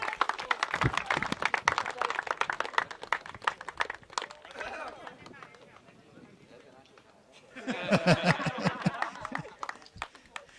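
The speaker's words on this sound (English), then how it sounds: "Let's hear a wonderful round of applause for some great fielding from that young man." Applause from a crowd at a youth T20 cricket festival final, rattling in dense bursts with a quieter lull before a louder swell of clapping near the end.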